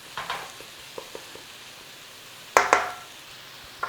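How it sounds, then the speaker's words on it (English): Garlic and ginger cooking in melted butter in a pan give a faint, low sizzle, with two sharper bursts of frying near the end as the pan is stirred. "Garlic and ginger. Bring that in, cook out that rawness a little bit with that butter in there."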